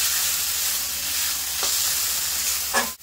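Ground ghatkol leaf paste stirred into frying spices in a pan, a steady close sizzle with soft scraping of the stirring, and a sharp clatter near the end.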